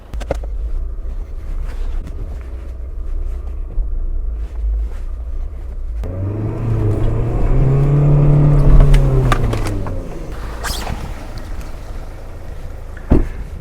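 A car reverses and then accelerates during a test drive while its wheels are checked for scraping, a low engine rumble rising to a louder rev mid-way before easing off, with wind noise and a few knocks.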